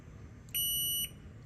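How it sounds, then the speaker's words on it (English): A timer's alarm buzzer sounds once as a steady high-pitched electronic tone, lasting about half a second against a low background hum. "I can silence the buzzer"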